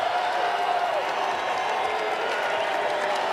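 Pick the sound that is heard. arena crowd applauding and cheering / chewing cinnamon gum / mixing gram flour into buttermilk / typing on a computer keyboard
arena crowd applauding and cheering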